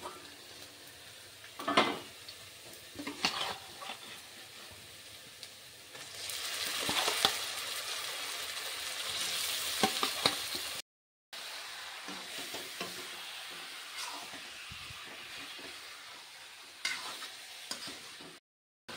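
Marinated chicken added to fried onions in a pan, sizzling loudly at first with scraping stirs and clinks of utensil on metal, then settling into a quieter simmering hiss after a short break.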